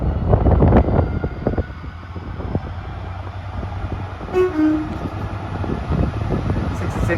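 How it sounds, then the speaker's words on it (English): A heavy freight train rumbles past at close range at Fenny Stratford station on the Marston Vale Line, with a steady low drone, a short horn toot midway, and a person talking early on. "I wasn't expecting to get a freight train at Fenny Stratford."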